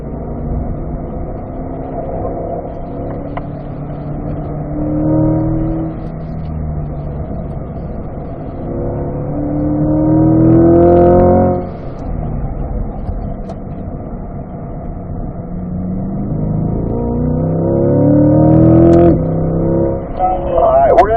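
C8 Corvette on the Spring Mountain race track, its engine note rising as it accelerates toward full throttle out of a corner, with a steady road rumble underneath and a voice talking over it.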